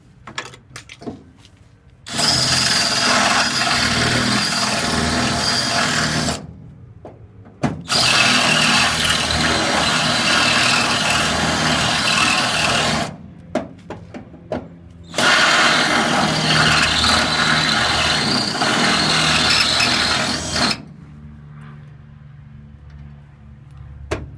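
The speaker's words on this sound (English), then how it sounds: "I'll just hit them with the drill some more" A power drill runs in three long, loud bursts while working inside the rusty hinge pocket of a 1956 GMC, with brief pauses and clicks of handling between runs.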